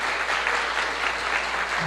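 A church congregation breaks into a brief, full round of applause for a charity project, dense and steady, with a low hum underneath.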